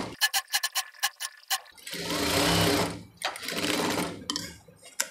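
A sewing machine stitches a maxi dress neck band, pressing a half-inch seam through fabric: a run of quick separate needle strokes, then two longer continuous runs, loud and close with no talking.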